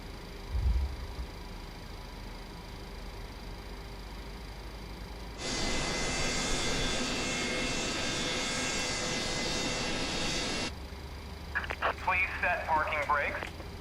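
Boeing 727 jet engine spinning up in a flight simulator, a steady broadband roar that cuts in abruptly midway, holds for about five seconds, then drops back to a low hum with faint radio chatter.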